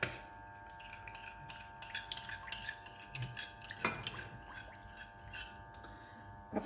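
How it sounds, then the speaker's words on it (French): Bread dough ingredients with oil are stirred in a bowl by hand, giving faint, quiet clinks and scrapes of a utensil against the bowl in an uneven rhythm. "On mélange"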